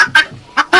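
Guinea fowl in a Ukrainian village give harsh, rasping calls close by: four short, loud bursts in quick, uneven succession.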